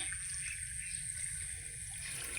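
Water trickles along a small stream on a rural footpath in the Philippines, a faint, steady burble set against a constant high insect whine and low background rumble.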